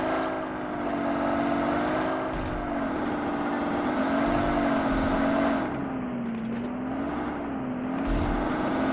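A car engine hums steadily with slowly wavering pitch, moving and revving slightly as it drives along, accompanied by continuous road noise and a few brief clicks, with no clear voices.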